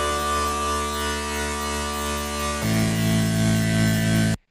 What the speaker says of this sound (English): a serum patch that sounds kind of like a bunch of saw waves